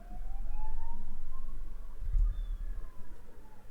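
Ambulance siren alert played on a chess stream: a rising and falling wail, fairly loud, with a low thump midway and a pulsing low undertone.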